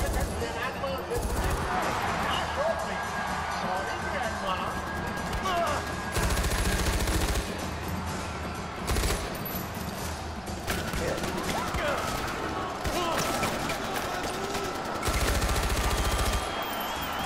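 Gunfire in the Far Cry 4 video game, with heavy bursts of rapid automatic shots recurring in loud blocks throughout, mixed with game effects and someone talking over the action.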